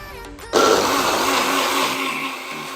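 A blender whirs loudly after a brief clunk, its motor grinding steadily and continuously through the rest of the clip as it blends fruit.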